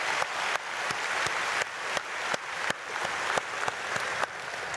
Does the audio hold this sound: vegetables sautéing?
no